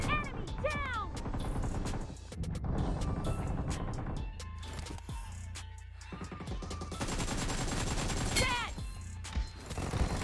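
An AK rifle fires in a video game in bursts of rapid, loud shots mixed with other game effects and mechanical clatter, with quieter lulls between volleys.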